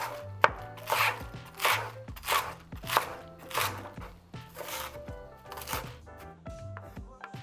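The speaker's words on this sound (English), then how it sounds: "I'm gonna chop these up really finely, almost in the same kind of size as those." A knife chops cabbage finely on a cutting board for pork and shrimp dumplings, a close, crisp series of rapid rhythmic strokes in bursts with brief pauses, no talking.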